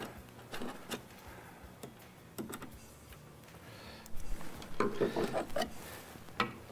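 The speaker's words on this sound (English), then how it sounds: "We use a Phillips head screwdriver for that." Two Phillips head screws being backed out of the top cover of a Gaggia Classic espresso machine, with scattered close metallic clicks and scrapes and a busier stretch of handling noise near the end, with no talk.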